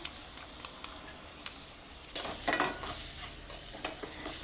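Garam masala is stirred into a crab curry base sautéing in a pan, giving a soft, quiet sizzle with light scraping and occasional clicks of a spoon against the pan.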